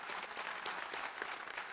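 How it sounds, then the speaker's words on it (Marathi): Audience applause fills the hall at a Marathi book launch ceremony, a dense, steady wash of many hands clapping at once, continuous for the whole moment with no voices over it. "त्यांच्यासाठी एकदा टाळ्यांचा प्रचंड गजर करा"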